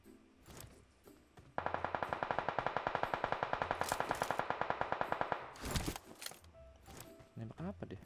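A close-quarter combat shooter video game produces a sustained burst of rapid automatic gunfire lasting about four seconds, loud and evenly paced. A few scattered sounds precede it and a voice talks afterward.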